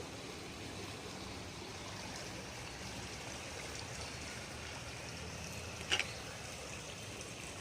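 Floodwater from the overflowing Pa Sak River pours into the Si Sa-at village community in Lom Sak, Phetchabun, and is heard from a second-floor balcony as a steady, faint wash of rushing water with no voices.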